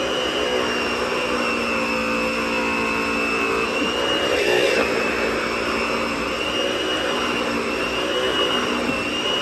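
A Lindhaus LB4 Superleggera backpack vacuum cleaner runs with its power head attached, giving a steady, loud motor whine and airflow roar that stays constant throughout with no talk.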